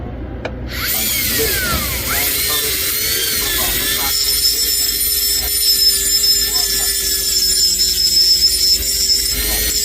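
A Dremel cutoff tool from a rotary tool kit grinds against a coin, starting abruptly and then holding a close, loud, steady high whine with a shifting pitch for several seconds.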